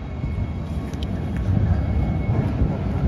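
A historic Rheinbahn tram passes close by, a low heavy rolling drone with faint metallic squeaks above it, growing a little louder toward the end.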